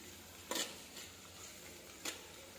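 Poha stirred and frying in a pan over a low flame, with a few soft scraping strokes of a spatula against the pan over a faint, steady sizzle, quiet and close.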